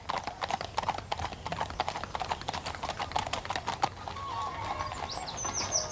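Horses walking along a woodland path, hooves clip-clopping in a steady, fairly close rhythm of sharp knocks that thins out toward the end, leaving a softer ambient hiss.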